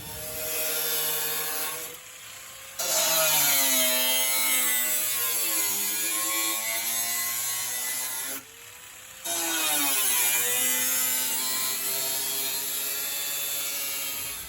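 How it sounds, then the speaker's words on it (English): A loud, steady power tool grinds and whines, cutting slits in the body metal of a Nissan 240SX S14, with two brief pauses where the cutting stops before resuming. "Now we got to go ahead and start cutting slits and folding it"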